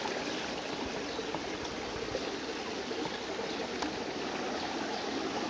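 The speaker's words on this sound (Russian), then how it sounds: "Родниковая водичка стекает." Spring water trickles steadily into a goldfish pool, a constant close, broadband babbling flow with no talk over it.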